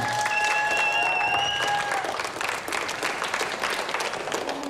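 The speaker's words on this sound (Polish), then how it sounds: "Brawa!" A crowd at a school teen beauty pageant breaks into loud, sustained clapping for a contestant, with a few tonal whistles or feedback lines in the first two seconds.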